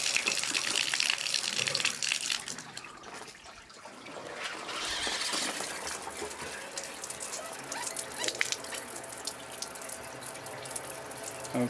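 Water sprays steadily from an antique Victorian cast iron canopy shower bath in a bathroom, a continuous hissing gush that dips briefly partway through before surging back strong.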